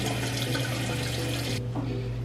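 Water runs steadily from a bathroom sink tap as a face is rinsed, a close broadband rush over a low hum that cuts off abruptly partway through.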